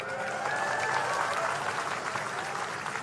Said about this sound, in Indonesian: Tepuk tangan kalian semuanya, semangat.